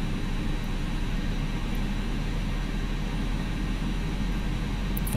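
Simulated Airbus jet engine during a manual start in the X-Plane flight simulator, a steady low rumble and airflow hiss that stays constant and moderate, with no talking.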